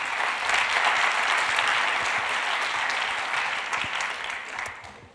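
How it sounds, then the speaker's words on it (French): A conference audience at Forum PHP 2015 warmly applauds speaker Maxime Valette, a thick, sustained crowd of clapping hands that holds steady for about five seconds before tapering off at the end, with no voices over it. "Je vous prie d'applaudir très chaleureusement Maxime Valette."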